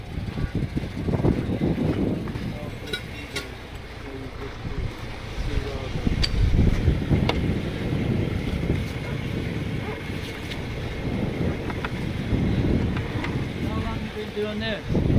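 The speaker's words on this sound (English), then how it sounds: "Plenty of wind." Strong outdoor wind roars steadily at a remote off-road recovery site, with gusty low rumble and buffeting against the microphone running throughout, loud and close.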